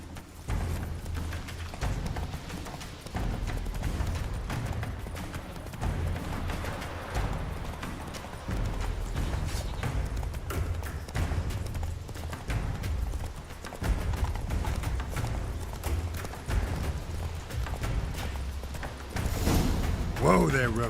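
Hoofbeats of Roach, Geralt's horse, in a Witcher fantasy video game, a steady galloping clip-clop close up under game music and ambience, with a voice calling to the horse over it.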